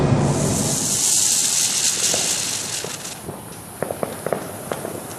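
Fireworks set off for a Fourth of July celebration: a long, steady fizzing hiss fills the first seconds, then a burst of sharp, crackling pops comes near the end.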